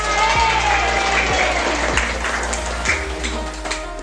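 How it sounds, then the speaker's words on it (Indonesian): Applause ringing out at a Quranic recitation teaching session, dense and steady throughout, with a low persistent hum beneath and a few sharper taps. "Tepuk tangan"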